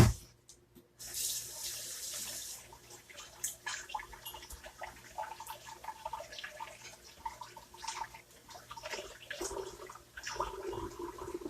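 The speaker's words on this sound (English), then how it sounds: "let me wash my hands" Hands are washed under a running kitchen tap: a steady stream of water splashes and spatters, with shifting gurgles as the hands move through the flow, fairly close and without talk.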